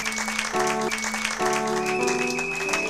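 Congregation applauding in a church, a dense continuous wash of clapping layered over keyboard chords that shift every second or so, with no clear speech on top.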